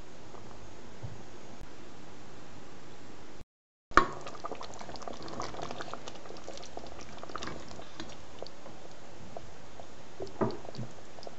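Genovese sauce with white wine simmers under a slightly open lid, a soft steady bubbling and gentle popping heard close, with a brief gap near the start and occasional louder blips.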